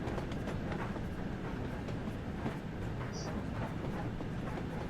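An LMS Jubilee steam locomotive in Train Sim World 2 runs toward Liverpool Lime Street, giving a steady, dense rumble with rhythmic clatter that stays loud and constant throughout.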